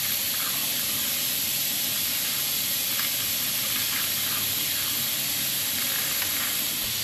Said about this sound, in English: stick a hose in here and try to suction out some more of the coolant.